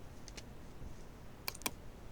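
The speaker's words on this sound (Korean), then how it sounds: "키보드에 엔터 치시면서 리턴 키죠." A computer keyboard clicks softly a few times, two light keystrokes early and then a sharper pair as the enter key is pressed, all faint and isolated in a quiet room.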